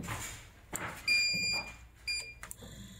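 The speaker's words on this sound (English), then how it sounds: "This new grease pump has added a practical feature that will sound an alarm when there is no output of grease." An electric grease lubrication pump with no grease output sounds its blocked alarm, two sharp high-pitched electronic beeps, each roughly half a second, over quiet mechanical background, close and clear.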